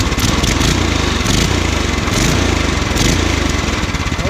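A Predator 212 small engine runs steadily on its first run, loud and close, with a continuous rumbling drone and a rapid firing pulse throughout, and no voices over it.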